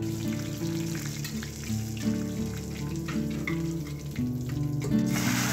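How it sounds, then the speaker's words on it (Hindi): Steady crackling and sizzling of whole spices (cumin, whole garam masala, bay leaf, dried red chili) frying in hot mustard oil, continuous and close, with faint tonal background sounds running underneath. "उसमें जीरा और खड़ा गरम मसाला, तेज़पत्ता, लाल मिर्च, ये सब डालेंगे और उसको तड़कने देंगे।"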